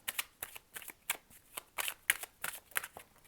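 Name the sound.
shuffling energy cards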